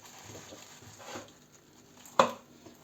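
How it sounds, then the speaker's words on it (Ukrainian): Green onion chopped finely with a kitchen knife for a spring poured pie, giving soft, quiet taps in an irregular run, then one sharper knock near the end with no talking. "нарізаємо дрібно сюди і цибулю"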